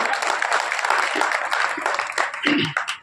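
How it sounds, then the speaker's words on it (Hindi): Audience applause welcoming a guest from Nagpur, president of an NGO, at a rally in Delhi, a dense wash of many hands clapping steadily near and loud for a few seconds. "तालियों के साथ अभिनंदन और स्वागत"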